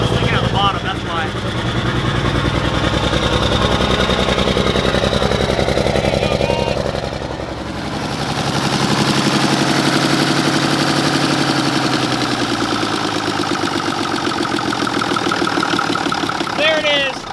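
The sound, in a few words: Mack truck engine starting and running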